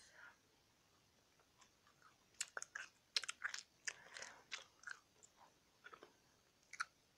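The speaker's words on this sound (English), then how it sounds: "I want to chew this gum" Mint gum is chewed close to the microphone in an ASMR setting, with quiet irregular wet clicks and smacks in quick bursts over near silence.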